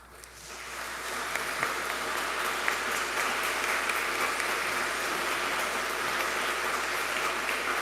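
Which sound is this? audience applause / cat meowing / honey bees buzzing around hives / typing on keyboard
audience applause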